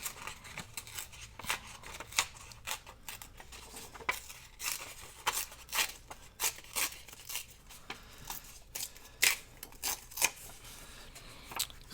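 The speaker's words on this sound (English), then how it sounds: "I'm going to tear it around the edges" Coffee-dyed deli paper is torn around its edges in quick, close, crisp rips, many short bursts with brief pauses between them and no talking.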